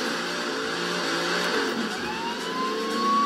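A tuned car engine revs in Forza Horizon 3, a steady mid-pitched drone that climbs gradually in pitch toward the end, loud and continuous with no talk.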